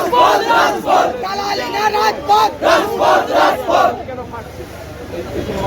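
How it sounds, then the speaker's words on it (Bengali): Crowd of protesters outside Bankshall court in Kolkata, supporters of the ISF, chanting slogans in loud rhythmic bursts that rise and fall together, close and continuous for several seconds before thinning out. "আদালতে পেশের সময় কর্মীরা তার আদালতের বাইরে বিক্ষোভ দেখান"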